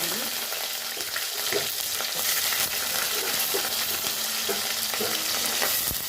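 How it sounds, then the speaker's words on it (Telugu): Mustard seeds, urad dal and onion fry in hot oil with a dense, continuous sizzle, while a spoon stirs and taps against the pan at irregular intervals up close. "నూనె వేడెక్కిన తర్వాత ఆవాలు ఉద్దిపప్పు వేస్తున్నానండి."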